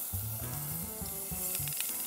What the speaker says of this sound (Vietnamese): Khi dầu đã nóng rồi thì chúng ta sẽ cho vô đây khoảng 1 muỗng cà phê hành và tỏi băm.